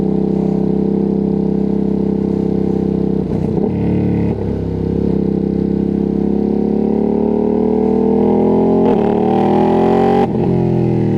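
A loud Ducati Streetfighter V2S sport motorcycle engine revs and accelerates, its pitch climbing steadily through gear changes, heard close up from the rider's position with wind rushing past.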